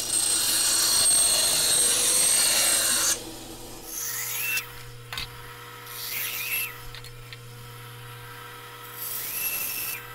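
A power tool grinds against the ends of wooden acoustic guitar sides, a loud, steady cutting whine for the first few seconds, then shorter bursts of trimming separated by quieter pauses and a low motor hum.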